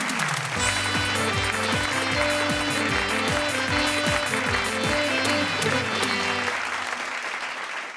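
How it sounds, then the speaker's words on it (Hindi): Steady, loud audience applause welcoming a poet onto the stage at a poetry show, dense clapping lasting several seconds over a rhythmic music beat with a sustained bass line. "उनकी जोरदार तालियों के साथ स्वागत करी निकुंज शर्मा जी के।"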